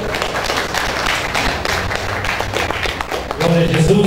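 A church congregation claps in praise during a worship service, a steady loud wash of hand claps over a full room, with a voice and faint musical tones rising near the end.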